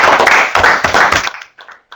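A room full of people at a technical meeting claps for a little over a second, a dense burst of applause that stops abruptly, followed by a few scattered final claps.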